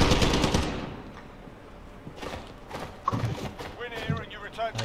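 Warzone gunfire comes as rapid automatic bursts and shots mixed with game noise, while someone talks excitedly over the action.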